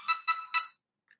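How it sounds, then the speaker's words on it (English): A phone ringtone goes off as three quick, bright chiming bursts in a row, then cuts out, with a faint blip after a short silence. "I thought I turned my phone down, but apparently I didn't."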